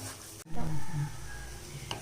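Spinach and egg stir-fry being sautéed in a pan over a low flame, a close steady sizzle with a brief stirring scrape partway through.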